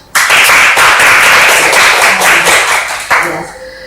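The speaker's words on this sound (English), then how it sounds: "Everyone, please give them a big round of applause" Dense, loud applause from a Toastmasters club meeting audience, starting abruptly and holding steady for several seconds before a brief fresh burst near the end, with no talk over it.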